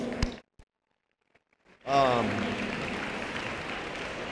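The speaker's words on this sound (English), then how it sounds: "Give these folks a round of applause" Applause for the archery team at an athletics banquet: after a near-silent pause, loud clapping erupts suddenly with a brief cheer on top, then settles into steady, sustained applause from a room full of people.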